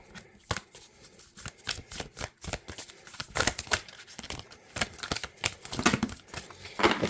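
Rapid crisp riffling and snapping of playing cards being shuffled, in quick bursts with short pauses, close up.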